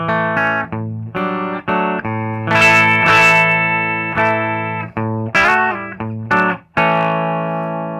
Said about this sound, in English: let's just see what we get for the uh, bridge pickup